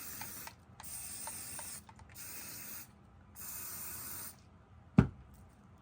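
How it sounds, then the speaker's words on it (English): A spray bottle mists a tight hair ringlet in several bursts, each a hissing spray of about a second separated by short gaps, close and fairly quiet, ending with a sharp knock. "And then we'll spray it."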